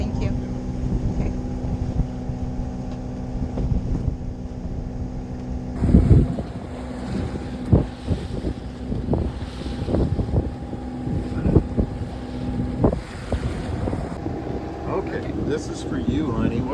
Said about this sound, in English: We are motor sailing in the Chesapeake Bay.